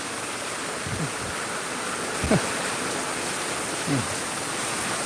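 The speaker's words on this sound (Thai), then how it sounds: "นู่นเลยกำลังน้ำฝนกำลังไหลแรงมาก" Heavy rain pours down with rainwater rushing strongly, a loud continuous hiss of falling and flowing water, with a few brief low vocal sounds or croaks rising faintly above it.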